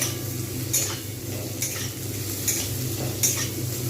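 Capsicum and carrot stir-frying over high heat with onions for chow mein, a steady loud sizzle with a few sharp spatula scrapes against the pan at regular intervals, no voices.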